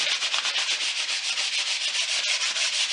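Steady, rhythmic rubbing over wood, like sanding by hand with something that is not sandpaper: a close, even hiss with quick back-and-forth strokes and no talking.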